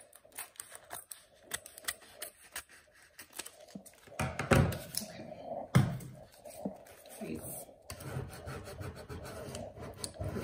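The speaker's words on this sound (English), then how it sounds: "Scrape it with our scraper tool, make sure it's nice and stuck on there." A scraper tool rubs permanent adhesive vinyl onto a jar to press the label down. The strokes are soft and scratchy and repeat unevenly, close but quiet, with short pauses between them.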